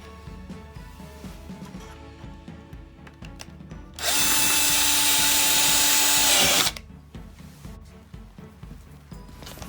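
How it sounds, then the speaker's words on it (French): A power tool whines loudly in a single burst of a few seconds while a wooden board is trimmed by a couple of millimetres for a folding frame, with quieter handling noise before and after. "une planche était 2 ou 3 mm trop longue, donc il a fallu la raboter"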